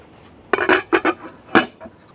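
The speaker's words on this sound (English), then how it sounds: "Then we're gonna give everything a really good stir" Vegetables and broth in a soup pot being stirred with a utensil, giving a handful of distinct scraping clinks and knocks against the pot in an uneven rhythm, close and moderately loud, with no talking.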